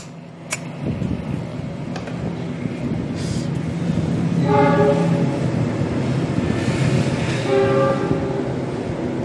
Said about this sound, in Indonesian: maaf sebentar lagi ada kereta lewat ya